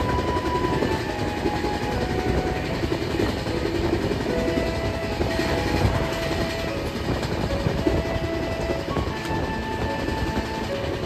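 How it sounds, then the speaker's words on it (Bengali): Darjeeling Mail passenger train standing at Chatterhat station on a foggy morning, with a steady, loud rumble of the carriages and engine and a few faint tonal hums, continuous throughout with no talking. "ট্রেন এখন এই চটেরহাট স্টেশনে এসে দাঁড়িয়েছে।"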